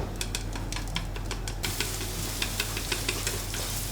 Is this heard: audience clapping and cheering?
no